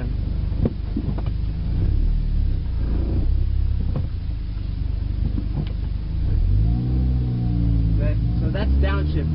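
A manual-transmission car downshifts as it drives along, the engine rumbling low and steady and then blipping up in pitch near the end, with a voice talking over the road noise.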